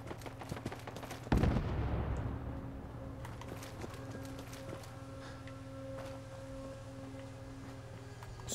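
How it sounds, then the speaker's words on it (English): A burst of distant gunfire in a modded shooter game lands as a sharp loud crack followed by a rumbling tail, then fainter scattered pops and a steady hum for the rest of the stretch. "I hear shooting going on."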